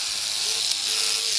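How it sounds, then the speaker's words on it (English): A Philips electric shaver, damaged after being dropped from a drawer, runs with a steady, harsh buzzing hiss and faint rattling from its loosened blades, heard up close and alone. "I damaged my shaver, dropped it out the drawer, and it sounds like this."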